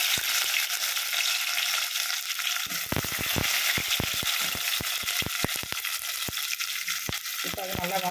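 Onions frying in a pan for stingray fish curry, a steady hiss of sizzling oil with scattered sharp pops and scrapes of stirring, close and continuous without speech.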